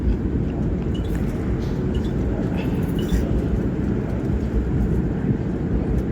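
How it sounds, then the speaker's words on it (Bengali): A passenger plane taxiing toward the runway before takeoff, heard from inside the cabin as a steady, loud engine roar and rumble with faint rattles and no clear speech. "এখন রানওয়ের দিকে যাচ্ছে ফ্লাইটটা যেখান থেকে স্টার্ট হবে"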